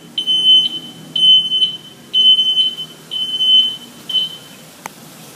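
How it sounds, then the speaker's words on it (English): A truck's backup alarm beeps in a regular pattern of about six loud, piercing tonal pulses, close and alone, evenly spaced with brief gaps between them. "Make sure your backup alarm is working properly."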